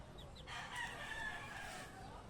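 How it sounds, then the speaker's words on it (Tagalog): Chickens in a backyard coop at a house, with a rooster crowing once in a drawn-out call that sounds quiet and somewhat distant over low background hiss. "May tangkar ng manok po ako dito guys."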